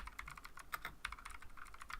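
Rapid, fairly quiet clicking of keys on a computer keyboard, irregular keystrokes pattering close to the microphone with no voices.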